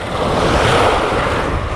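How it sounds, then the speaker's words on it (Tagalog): Big ocean waves crash and wash near the shore during a fishing outing, a loud, continuous roar of surf mixed with wind buffeting the microphone, with no voices. "Lalaki ng alon."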